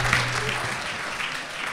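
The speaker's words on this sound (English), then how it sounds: "Yeah, okay, another applause." Steady applause from an audience, a dense wash of clapping that holds at an even level for a couple of seconds.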